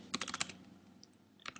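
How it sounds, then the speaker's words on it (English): Fingers typing on a computer keyboard: a quick run of close clicking keystrokes, a short pause, then another short burst of keys. "if I log out here and start typing in things"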